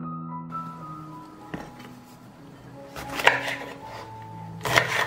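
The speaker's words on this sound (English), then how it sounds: "I will clean and chop 2 kilos of washed peppers" Knife chopping washed peppers on a board: a few sparse, sharp cuts, with two louder bursts of rapid chopping toward the end, close and alone with no talk.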